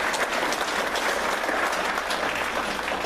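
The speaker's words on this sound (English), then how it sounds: "let's give them a big round of applause" Steady, dense applause from a large indoor audience at a local patriots group meeting, loud and continuous throughout with a few faint voices mixed into the clapping.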